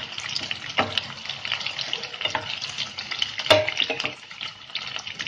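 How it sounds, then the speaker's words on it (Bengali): Onion frying in a little oil for ghugni, a continuous close sizzle with crackles and a few sharper pops, holding steady before easing slightly. "আর তেল দিইনি, ওতেই আমি একটু পেঁয়াজটা ভেজে নিচ্ছি"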